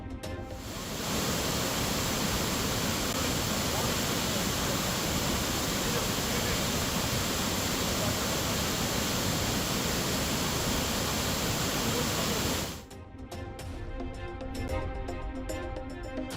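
Flooded waterfall at Kovai Courtallam after heavy rain, a loud, dense, continuous roar of rushing water that cuts off abruptly near the end, followed by quieter sound.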